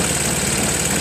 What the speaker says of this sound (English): Actually, it idles right now.